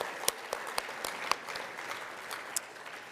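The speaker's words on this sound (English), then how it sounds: "Let's give these guys another round of applause" Gala audience applauding at a youth soccer awards ceremony, a steady wash of many hands clapping with a few sharper individual claps standing out, moderately distant and continuous for a few seconds.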